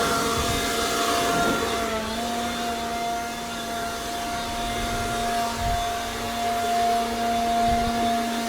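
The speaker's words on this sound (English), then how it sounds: "I'm gonna blow off the shelf as well" Compressed air blasts off a shelf inside a work van, a continuous loud whooshing roar with a steady whine that runs the whole time, with no one talking.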